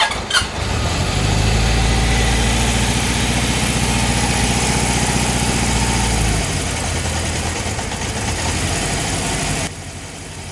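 A 1971 Honda CB750 motorcycle engine with badly conditioned carburetors catches and settles into a loud, rough idle close by. The idle drops to a lower, uneven note partway through before fading near the end.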